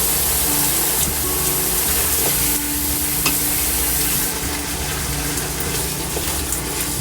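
Beef, potatoes and tomatoes frying together in a pan for a Chinese home-style dish, giving a loud, dense, continuous sizzle with occasional scraping stir sounds and a few light knocks.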